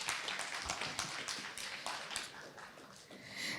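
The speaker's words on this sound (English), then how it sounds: "Big round of applause, guys." Audience at an architecture conference panel applauds in a fairly faint, distant patter of hand claps that stays steady, then thins out toward the end, with no voices over it.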